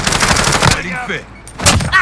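Loud, close Call of Duty gunfire in rapid bursts, a sustained burst up front, then a quieter gap and another sharp burst near the end, with game voice lines mixed in.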